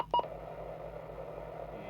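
A Lafayette Venus UK CEMultiNorm mobile hideaway CB radio gives a short pair of electronic scan beeps, loud and close, followed by a faint steady hum of the set.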